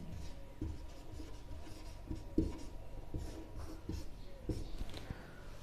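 Chalk or marker writing on a board during a maths lesson, a run of short irregular scratchy strokes and taps, fairly quiet.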